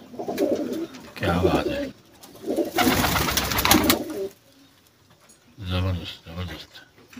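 High flyer pigeons coo in low, throaty bursts, several separate rounds spaced through the stretch, close by, with someone speaking between and over them.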